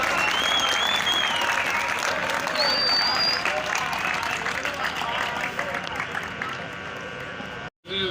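A crowd of students and professors at a Kashmir Day gathering applauds loudly to welcome Asian gold medalist Mohammad Akram Khan Niazi, with whistles and shouts over the clapping, which thins and fades before cutting off.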